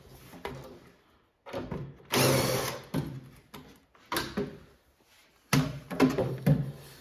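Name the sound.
drill working inside arcade cabinet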